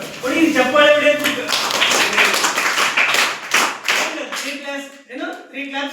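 Schoolchildren in a classroom clap together in short bursts, and voices talk over and between the claps.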